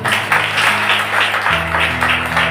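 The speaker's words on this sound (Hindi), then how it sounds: "ताली बजा देखो" A church congregation applauds during a Bible sermon, with dense, continuous clapping that swells in rhythmic waves over sustained low tones.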